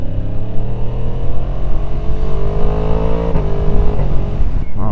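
A 2023 Yamaha MT-10 motorcycle engine runs loud and close, exhaust note rising steadily as it accelerates, with a brief dip near the end.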